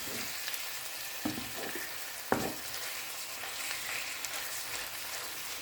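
Minced pork stirs and fries in a pan with a steady, close sizzle, broken by a couple of sharp spatula scrapes and knocks against the pan.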